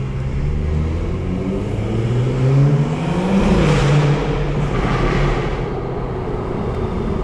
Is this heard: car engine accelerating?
yes